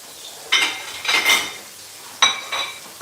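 Plates and dishes clink and clatter in a kitchen while pork chops fry, a few sharp ringing knocks in two short clusters, close and moderately loud over a quiet background.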